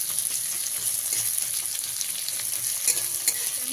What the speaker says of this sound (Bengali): দিয়ে পেঁয়াজটাকে ভালো করে লাল করে ভেজে নেব।